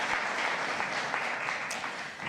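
A summit forum audience gives steady, continuous applause for the Deputy Secretary of the Treasury, a fairly distant wash of clapping that holds evenly throughout.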